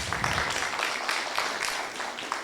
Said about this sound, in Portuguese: palmas aí para o grupo 3